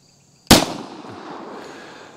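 A single sharp gunshot from a Rock Island pistol, loud and close, followed by a fading echo.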